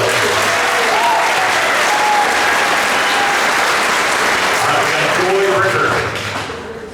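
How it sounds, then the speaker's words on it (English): Loud, dense applause from a school spring concert audience honoring a graduating senior, continuous clapping with some cheering and voices mixed in, fading down in the last second. "give Ben a big round of applause and good luck, everyone"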